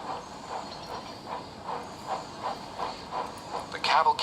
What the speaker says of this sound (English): The cavalcade moved carefully over the rails and out to the open line.